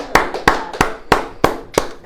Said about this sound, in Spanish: Démosle un aplauso a Dios de la gloria